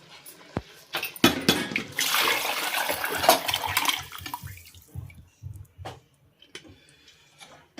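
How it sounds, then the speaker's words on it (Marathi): Hot water splashing from a vessel into a pot of mutton curry, a gushing pour that tapers into scattered drips and small clatters, close by. "हे गरम पाणी मी या मटनमध्ये टाकणार आहे"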